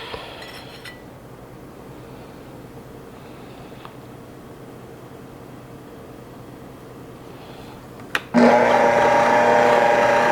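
A stand mixer churns bread batter on low, its steady whirring motor starting loud near the end after a quiet kitchen stretch with faint background noise.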